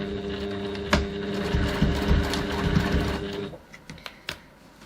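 A sewing machine stitching a bag pocket at a short stitch length, a close steady whirring hum that stops after a few seconds, followed by scattered clicks and handling noises.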